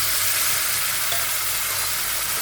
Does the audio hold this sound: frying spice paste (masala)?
yes